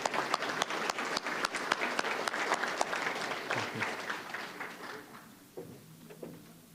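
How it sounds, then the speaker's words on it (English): A conference audience breaks into applause for a guest speaker, a dense run of clapping that stays lively for several seconds, then thins out and fades to a few scattered claps. "Let's give him a round of applause,"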